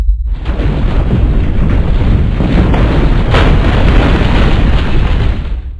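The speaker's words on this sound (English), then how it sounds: "The ground is trembling." A heavy, continuous rumble and roar, loud and close, that swells briefly in the middle and sustains for several seconds like the ground shaking, with no voices.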